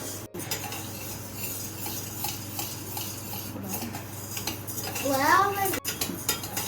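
Toor and urad dal dry-roasting in a pan for idli podi are stirred steadily, giving close, continuous scraping and light clinks of a spoon against the pan over a soft background hiss, with a brief whining tone near the end.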